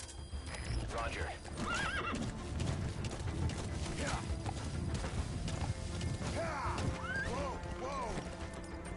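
A horse in a video game whinnies several times amid steady clip-clop hoofbeats, fairly close and clear, with other game sounds and a voice talking intermittently underneath.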